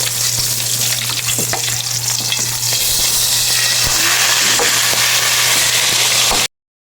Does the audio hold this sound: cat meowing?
no